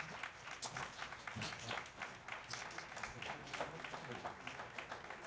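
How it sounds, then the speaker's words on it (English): Memorial Day breakfast audience applauding the kitchen crew, a continuous soft patter of many hands clapping together, distant and fairly quiet, holding steady for several seconds. "Can everyone give this crew a big round of applause?"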